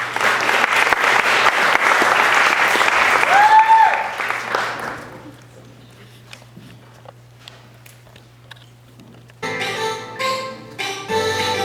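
Audience applause for stage performers, a dense burst of clapping for about four seconds that fades out to near quiet, followed by music starting up.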